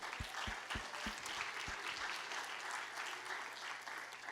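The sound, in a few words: applause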